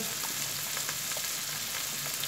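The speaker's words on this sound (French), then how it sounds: "Voici la sauce soja mise dans les champignons et les oignons." Mushrooms and onions frying in a pan with soy sauce, a steady close crackling sizzle with faint stirring and no voices.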